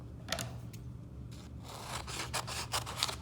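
Scissors snip through paper or fabric to cut out shapes for a landscape collage, a series of short crisp cuts and rubbing sounds close by, with no talking.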